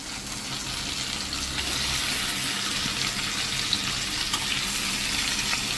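Food sizzles in a hot pan as it is flipped, a steady hiss of frying that swells slightly after the turn, close and even, with no talking.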